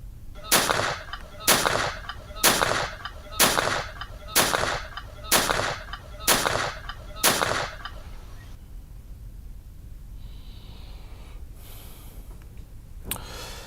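Eight sharp gunshots fired in a steady rhythm, about one per second, as a groom shoots celebratory rounds from the stage at a village wedding in Barak village, Jigna area; loud and close, followed by quieter ambient noise.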